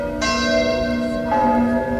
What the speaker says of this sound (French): les cloches de la cathédrale de Lausanne.